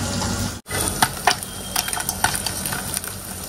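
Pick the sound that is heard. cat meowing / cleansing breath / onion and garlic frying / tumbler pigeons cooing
onion and garlic frying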